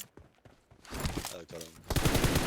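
Gunfire in the battle-royale game PUBG Mobile: bursts of rapid automatic shots, sparse at first and then dense and loud, with quick sharp cracks near the end.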